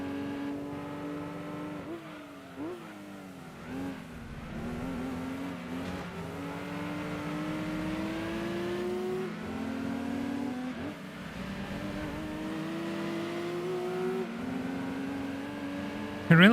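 Cars racing in the Gran Turismo 2 video game, a yellow Toyota Supra among them: a continuous buzzing engine drone with rising and falling revs through gear changes, steady and fairly loud, no voices.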